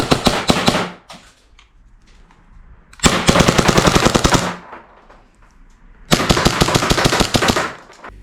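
A Novritsch SSP5 airsoft pistol fired in three fast bursts of rapid sharp cracks from a lightweight blowback slide, loud and close, with short quiet gaps between the strings of shots.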